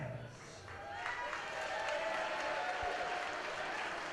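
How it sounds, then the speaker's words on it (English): A crowd at a boxing-style fight event cheers and applauds steadily as a fighter in the red corner is introduced, a dense wash of clapping and shouts that swells slightly and holds, heard from some distance. "And his opponent into the red corner makes some noise for Brandon Wyatt."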